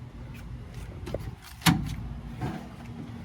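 A tight-fitting door on a 2002 Chevrolet 3500 cargo van with 250k miles, producing one firm thud with a rattle near the middle, close by, amid low ambient rumble.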